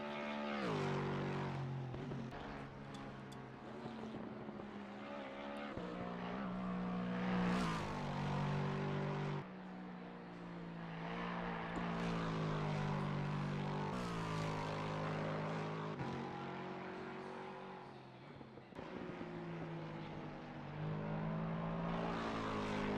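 A Lexus GT3 race car with a V8 engine roars through a racing video game, its engine note rising and falling through gear shifts over a long, loud, continuous stretch with no talking.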